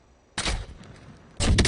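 Two sharp, loud KAR98 bolt-action rifle shots fire in a video game, one near the start and one near the end, each a broadband blast with a short ringing tail and a quiet gap between them.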